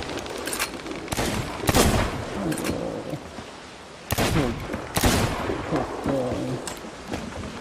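Rapid gunfire from hand guns aimed at a Megalodon in the pirate video game Sea of Thieves, bursts of loud overlapping shots crackling continuously with brief lulls and sharp peaks, no one talking over it.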